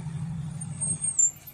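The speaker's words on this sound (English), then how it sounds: "Wow, nice truck." A truck passes on a city street, a low rumbling engine that swells briefly and then fades, with a faint high hiss toward the end, heard at moderate distance.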